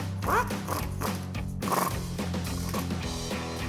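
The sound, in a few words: 10mm socket ratchet tightening Jeep brake caliper bolts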